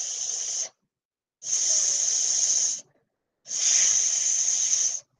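A voice imitates sausages sizzling in a skillet with three sustained hissing 'sss' sounds, a short one followed by two longer ones separated by brief pauses, close and clear with no other sound.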